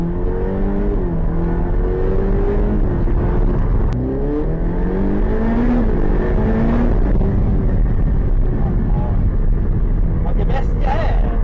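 A Ferrari 488 Pista Spider with an aftermarket exhaust revs loudly on a Naples, Florida street, its engine note climbing and falling in repeated pulls under ongoing conversation.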